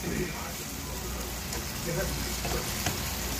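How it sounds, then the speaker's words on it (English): Steak meat browns in a pan with a steady, close sizzle and crackle that carries on throughout, a voice talking faintly over it. "Browning the meat."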